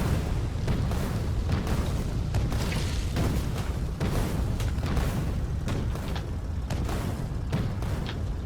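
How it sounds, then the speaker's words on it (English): Cannon shells explode against enemies in the Factorio video game, a steady run of booming blasts and pops over a thick rumbling bed, loud and repeated with no talking. "In the face with a cannon shell."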